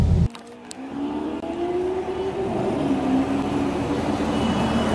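A Lamborghini Aventador Roadster passing on a Dubai street, its engine swelling into a loud rising roar after a brief burst of noise, then holding a strong droning note as it goes by.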